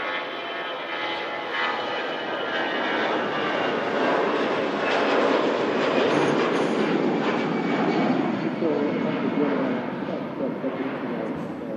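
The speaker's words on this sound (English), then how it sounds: "Lovely sound there from the EasyJet departing." An EasyJet airliner departs Manchester Airport, its jet engines producing a loud, steady broadband roar that swells slightly toward the middle and holds throughout without any talk.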